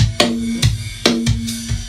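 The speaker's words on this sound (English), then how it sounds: "It's a VCA-based, real fast compressor. It's not real hi-fi. It has a lot of attitude. It squashes stuff." Snare drum crushed hard by a DBX 160X VCA compressor, five loud, close hits in an uneven rhythm, each with a sustained, flattened ring between strikes.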